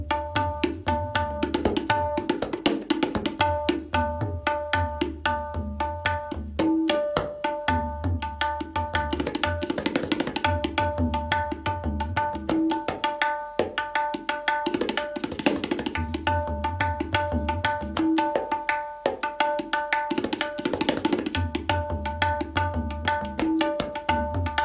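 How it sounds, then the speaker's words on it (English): Tabla drums play a fast double-speed rhythm pattern, with crisp rapid strokes and ringing tuned tones repeating in steady cycles, heard up close and alone for the whole stretch. "So on the tabla that would sound like this."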